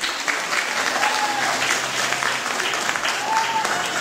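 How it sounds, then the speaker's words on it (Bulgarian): An audience in a sports hall at a martial arts club show gives a sustained ovation, dense clapping filling the whole stretch with a murmur of crowd voices beneath it. "Овации за Роби"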